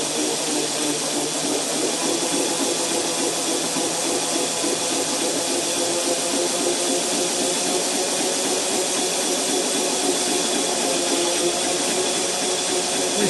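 A pulley-driven free-energy machine linked to a transmission is spun up by hand, giving a loud, continuous whirring hum with a hissy edge that stays steady throughout and has no voices.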